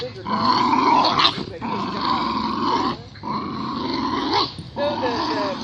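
A small but tough dog named Cub growls close up in a deep, rumbling, motor-like snarl, in long sustained bursts broken by brief pauses for breath.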